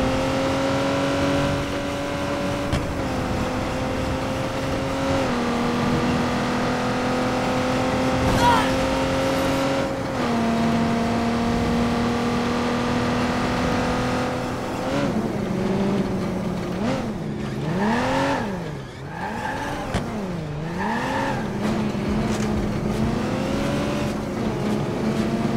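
Car engine in Watch Dogs 2, driven across the Golden Gate Bridge in a battered car, droning steadily and then revving up and down in quick swells near the end.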